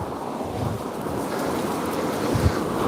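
Strong, gusting wind buffets the microphone on a Christmas Eve stroll above the River Tweed at Berwick. It makes a steady, loud roar with no pauses.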